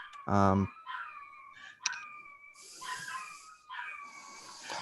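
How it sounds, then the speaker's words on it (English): Dogs bark and whine indoors, one sharp loud bark followed by high whimpering and whining cries, fairly close, under an online meeting call. "my dogs are going insane"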